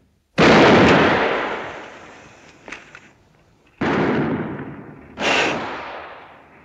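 Gunfire rings out in a western movie street gunfight, with three loud, booming shots that each trail off into a long echo, plus a faint clatter between them and no talking.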